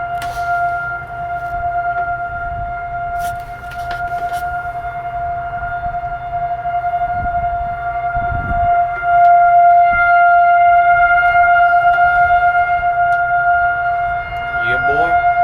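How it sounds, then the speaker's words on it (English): Outdoor tornado warning siren sounding its weekly Wednesday test, a steady two-tone wail held for the whole stretch at moderate distance, with low rumbling and handling noise and brief bits of nearby background noise underneath. "The siren's beeping, boys. There's no tornado, but it's just like, it's the practice."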